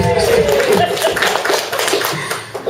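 A comedy club audience applauds, with a brief burst of clapping mixed with crowd noise while someone speaks over it.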